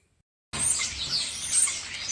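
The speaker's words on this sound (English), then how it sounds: "the birds are absolutely singing up a storm" Birds singing in early spring, a busy chorus of bright chirps and tweets that starts abruptly after a half-second of silence and continues steadily and close.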